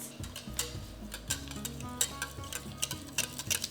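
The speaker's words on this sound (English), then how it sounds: "Whisk the zinc oxide in with your oils." Zinc oxide powder being whisked into oils for homemade natural sunscreen, a quick rhythmic series of light ticking clicks as the whisk taps the bowl, close and steady.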